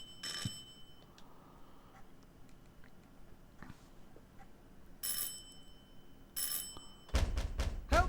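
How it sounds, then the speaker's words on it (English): A doorbell-like ringing in the video game Silent Hill 4, heard as two separate bright bursts about a second long each, fairly clear over a quiet, low ambient background, followed by louder sharp noises at the end. "sounds like a doorbell."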